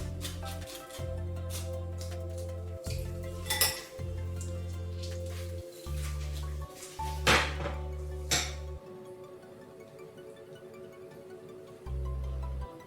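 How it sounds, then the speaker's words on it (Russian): Metal clinks and scrapes as lemon cream is stirred in a pot while it comes to the boil. A steady low hum runs in repeated blocks underneath, with a few sharper clanks and no talk. "Крем при постоянном помешивании нужно будет довести до кипения"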